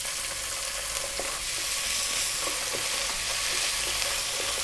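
Chopped onion, fresh chili and garlic ginger paste fry on high heat, giving a dense, continuous close sizzle with faint crackles and occasional stirring scrapes, no talking.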